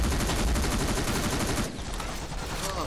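Rapid gunfire in the video game Terminator: Resistance, a dense run of shots in the foreground. The firing eases slightly partway through, then keeps going steadily.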